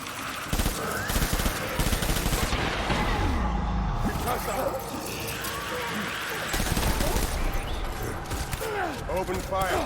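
Dense automatic gunfire rattles nearly nonstop in Death Stranding, loud and close, with mechanical clatter and engine-like noise mixed in.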